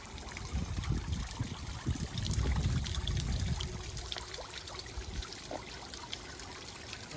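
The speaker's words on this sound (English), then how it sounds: "It's only running the fountain, not the waterfall." Hozelock Easy Clear 9000 pond pump driving a garden pond fountain, water splashing and trickling steadily close by, louder in the first few seconds before settling into a softer gurgle.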